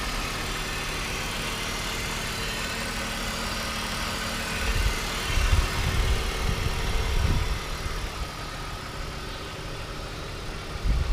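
A BMW E39 with a manual gearbox and 60k miles idles smoothly nearby, a low, even engine hum with steady rumble and no voices.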